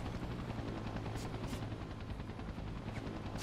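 Helicopter in the Spider-Man 3 video game, its rotor thudding in a steady rapid chop with heavy low engine rumble, loud and continuous throughout, with no voices.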